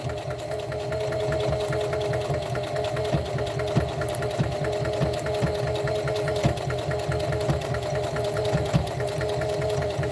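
Sewing machine stitching down the edge of a Dollar Tree dish drying mat, a close, steady mechanical whir with a rapid rhythmic needle beat running continuously.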